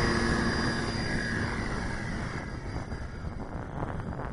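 An Avios Grand Tundra RC model airplane flying on a 4S battery gives off a steady electric motor and propeller whine that slowly fades as it moves away, with wind noise and no talk.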